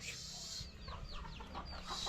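Chickens on a Thai farm give soft, scattered clucks, faint and somewhat distant, over a steady background hiss.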